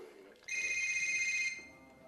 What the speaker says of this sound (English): there you go, that's the phone ring.